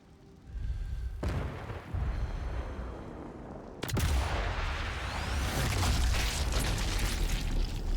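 Anti-tank gun fire in the Elite Sniper 5 video game: loud, sustained booming blasts with rumbling roar, a sharp new report partway through, then dense continuous explosive noise.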